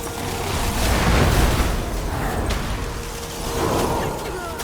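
A Pyroblast fire spell explodes in World of Warcraft with a loud, dense, rumbling burst that swells, eases and swells again under steady game noise.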